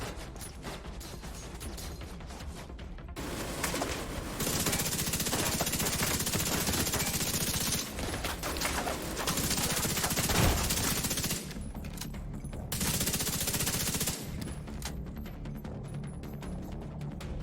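Gunfire in The Division 2 during a prison infiltration mission, bursts of rapid shots and rattling mechanical clatter coming in waves at moderate level, with quieter gaps between.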